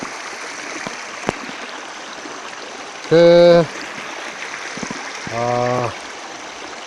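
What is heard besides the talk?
river flowing over rocks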